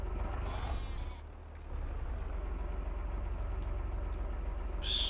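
Sheep bleat in Farming Simulator 25 against a steady farm machinery hum, with a rising call early on and a loud burst near the end.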